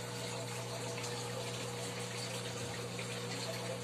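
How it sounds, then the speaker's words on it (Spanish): Steady rush of water cascading from a homemade canister filter into an aquarium, a continuous even splashing flow with a low pump hum beneath, close and unbroken throughout. "Ya coloqué en funcionamiento este filtro canister casero y ahorita"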